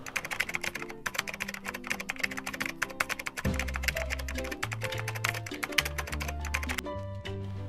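A website address is typed on a computer keyboard as a quick, steady run of crisp key clicks, close and clear, over soft background music.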